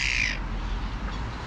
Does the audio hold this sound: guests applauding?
no